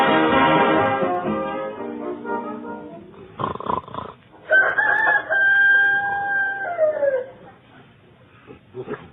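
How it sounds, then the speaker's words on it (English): A rooster crowing sound effect in an old radio comedy, loud and close, with a long drawn-out call and a few rising, wavering cries that trail off near the end. "I just heard a rooster crowing."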